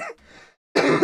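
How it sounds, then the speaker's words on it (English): Two short, rough coughs or throat clears from one person, close and loud, separated by a brief pause. "I'm coughing like crazy today"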